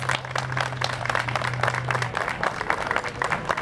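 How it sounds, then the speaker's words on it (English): Audience applause for Clifton City officials at a Palestinian flag raising outside Clifton City Hall: steady, moderate clapping that runs the whole stretch, with a low electrical hum under the first half. "Round of applause, please."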